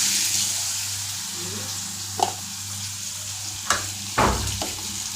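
Crushed garlic, pounded on a grinding stone, sizzles in a hot pan of oil already holding mustard seeds and cumin; a steady hiss runs throughout, broken by a few brief stirring clatters near the end.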